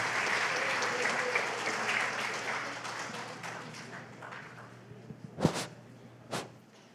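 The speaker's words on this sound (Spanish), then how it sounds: "Un aplauso para Gloria." An audience applauds for a woman named Gloria at a talk on patients and health system reform. Steady clapping fills the room and thins out toward the end, then two sharp louder claps ring out near the close.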